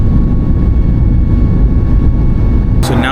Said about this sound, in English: the plane is slowly moving now, so we're about to take off from Bali